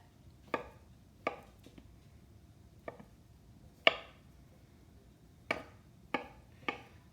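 Sharp knife chops through halved potato on a cutting board, seven or eight distinct crisp strikes spaced irregularly about a second apart, close and clear with quiet between them.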